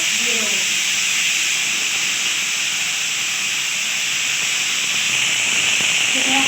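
Vegetables sizzling in hot oil with five-spice and dried chili in a village kitchen: a loud, steady frying hiss that continues unbroken from start to finish.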